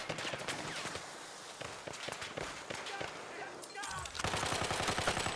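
Rapid bursts of automatic gunfire and single shots in the video game Battlefield 1, the Apocalypse expansion, crackle repeatedly at moderate volume with a denser volley near the end, mixed with other game noise.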